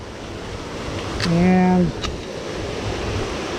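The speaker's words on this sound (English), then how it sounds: "so we found the waterfall" Steady broadband rush of a waterfall beside the Rock Creek Loop Trail in Big South Fork NRRA, continuous and fairly close, with a brief voice speaking over it partway through.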